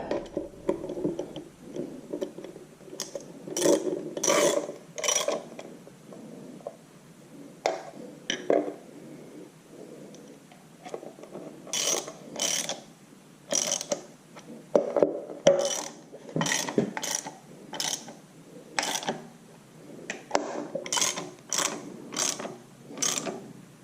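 A socket wrench ratchets on the valve and tappet cover bolts of an IHC Farmall Super MTA tractor, giving close, repeated bursts of clicking in short runs with brief pauses, no talking.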